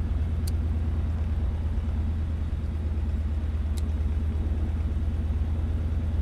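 A DHC-2 Beaver piston radial engine in Microsoft Flight Simulator runs steadily during a magneto check, a loud continuous low throbbing drone with no noticeable change in pitch.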